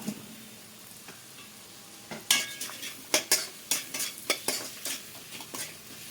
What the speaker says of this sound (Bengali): খুব ভালো করে আরও কষিয়ে নেব এবার ভেজে রাখা আলুর টুকরোগুলো দিয়ে দেবো